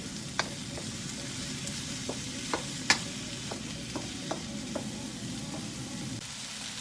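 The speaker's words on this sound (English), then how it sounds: "So we're gonna keep cooking this on a really high heat and keep it moving" A stir fry over really high heat, a soft continuous sizzle broken by a dozen sharp clicks of a utensil against the pan as the food keeps moving, close up and with no speech.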